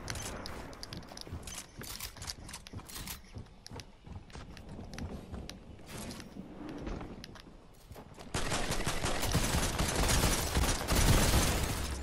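Fortnite gunfire from several directions, scattered cracking shots throughout that swell into a dense, louder barrage of rapid fire near the end.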